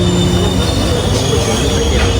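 A train at a railway station in Kerala, with a steady loud rumble of rolling stock and high squealing wheels on the rails, continuous throughout.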